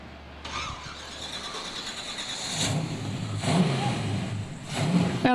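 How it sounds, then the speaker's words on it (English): A 700-horsepower custom concept car starts up outdoors in Long Beach, its engine catching and then revving in several rising surges at moderate distance. "Amazing what 700 horsepower sounds like."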